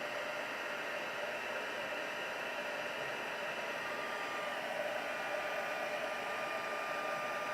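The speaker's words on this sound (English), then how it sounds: "And we'll use our heat tool." A craft heat tool blows hot air while embossing a handmade card, producing a steady, close, even whoosh of airflow with a faint motor whine that runs unbroken throughout, no voices.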